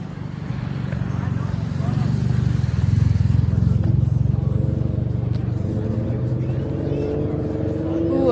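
A Ford Focus drives past at an outdoor car meet, its steady engine rumble holding loud and close throughout, with a faint higher whine entering toward the end.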